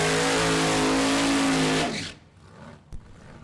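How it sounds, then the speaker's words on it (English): A Chevy Lumina-bodied funny car with Hemi power roars at full throttle on a dragstrip during qualifying, a loud, steady, harmonic-rich engine blast that cuts off abruptly near two seconds, leaving quiet crowd noise and a single sharp knock. "Chevy Lumina-bodied funny car."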